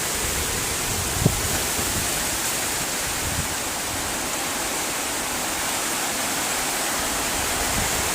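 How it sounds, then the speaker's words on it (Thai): Strong storm wind roars steadily as a dense, even rush of broadband noise, with one brief knock near the start and no voices. "ลม แรงจริงๆครับอันนี้"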